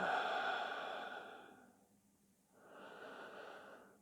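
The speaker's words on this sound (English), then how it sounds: "Deep inhales and deep exhales." Slow, deep yoga breathing: a long, soft exhale that fades, a brief pause, then a gentler inhale rising again, close and quiet with no talking.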